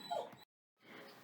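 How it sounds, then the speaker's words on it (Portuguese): A dog whines and whimpers in short, faint bursts indoors, a brief high cry followed by a pause and then another softer whimper. "esse choro que vocês estão escutando do meu cachorro"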